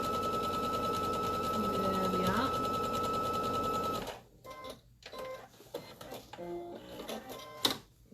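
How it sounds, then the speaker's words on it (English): A sewing machine stitching a quilted bee block runs in a steady loud mechanical whir for about four seconds with a brief pitch shift, then stops, leaving faint handling clicks and rustles. "Sorry, I'm not talking much while I'm sewing."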